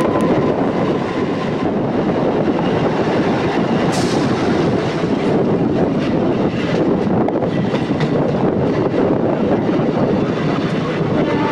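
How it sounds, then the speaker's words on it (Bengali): An EMU local train on the Howrah–Tarakeswar line running at about 70 to 72 km/h, a loud continuous rumble with rail clatter throughout and a brief higher hiss near the middle, no talk. "বর্তমানে ট্রেনটির গতিবেগ এখন ঘন্টায় 70 থেকে 72 কিলোমিটার পার"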